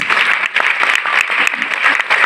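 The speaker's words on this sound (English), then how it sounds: "she and her whole team needs a big round of applause" Sustained audience applause from a crowd at a dance performance event, dense steady clapping lasting the whole moment, loud and close with no voices over it.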